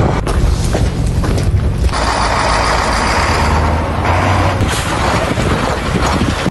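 A truck backs into a garage bay during a driving contest, its engine rumbling loudly and steadily up close, with a mechanical clunk partway through and no talk.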